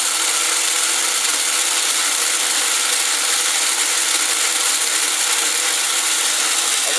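A Lionel 497 coaling station mechanism running up, giving a steady, unbroken mechanical whir and ratcheting hum. The sound is close, loud and even throughout, with no voices.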